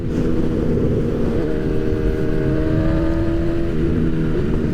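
A motorcycle engine revs near redline, then engine braking sets in as the throttle is chopped. The sound is loud, close and continuous, with harmonic engine tones that shift as the revs fall.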